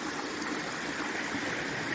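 Mountain stream on the Appalachian Trail flowing steadily, a dense close rushing wash of water with no voices.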